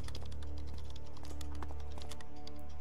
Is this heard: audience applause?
no